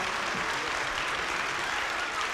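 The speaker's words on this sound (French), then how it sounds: "On peut l'applaudir effectivement." Steady audience applause in a hall during a talk about a hospital clown organization's founder, a continuous dense patter of many hands clapping at even loudness from start to finish.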